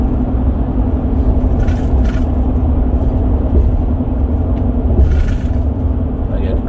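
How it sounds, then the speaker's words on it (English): A car engine rumbles steadily close by as the vehicle creeps alongside on the road, a constant low drone with faint traffic noise and no speech. "I got the car creeping up beside me again"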